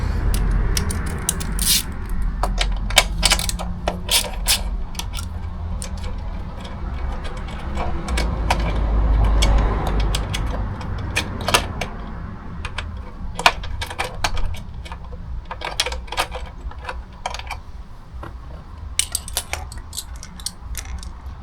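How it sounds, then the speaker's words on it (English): Ratcheting and clicking of a wrench loosening a 10 mm bolt on a Honda CB125F motorcycle: irregular sharp metallic ticks and scrapes, close by, over a steady low background rumble, with no talking. "to do that, we're gonna need to unscrew this bolt. It's 10 millimeters."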